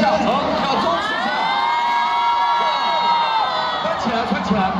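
A large audience at a concert cheers and shouts in a dense, sustained roar, with whoops rising over the crowd.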